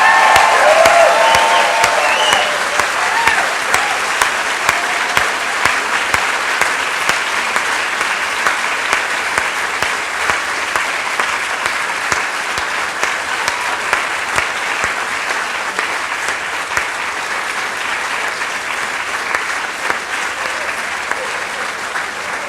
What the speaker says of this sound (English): Let's give a round of applause one more time to the class of 2019